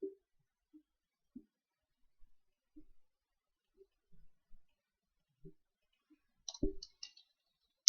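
A computer mouse clicks close to the microphone, with sparse single clicks spread irregularly across several quiet seconds and a quick burst of clicks near the end.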